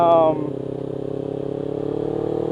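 A light Ninja 300 motorcycle's engine drones steadily while being ridden, with a brief louder burst at the start and then an even, continuous hum.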